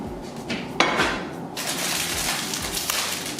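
A plate is lifted out and set down during meal prep, with a close clink and clatter of dishes followed by rustling and handling noise.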